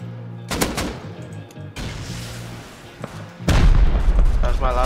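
Gunfire and rocket explosions from an online raid in the video game Rust, with sharp shots and heavy booming blasts, the loudest rumbling explosion arriving late, while players talk over the action.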